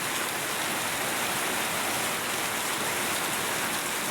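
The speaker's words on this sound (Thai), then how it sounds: "มื้อนี้ฝนตกแห้งขนาดพี่น้อง" Heavy rain pours steadily in Xiangkhouang, Laos, a dense continuous hiss of drops on surfaces at even loudness throughout, with no voices.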